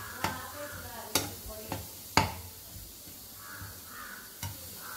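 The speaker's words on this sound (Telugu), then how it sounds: "ఇందులో నేను 1 స్పూన్ ఆఫ్ ఇది మంచి పప్పులో లేదా తెల్ల పప్పులు అంటారు ఆ పౌడర్ వేస్తున్నాను। వేసి అలాగే బాగా మిక్స్ చేసుకోవాలి।" Spoon scraping and knocking against a pan while stirring carrot fry with white lentil powder: a few sharp clinks spread irregularly, with a faint sizzle and quiet background sounds.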